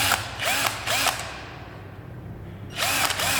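A cordless 12V drill with drilling and screwdriving modes and 25 torque settings whirs in three short bursts, the first two quick and close together, then a pause before a final run.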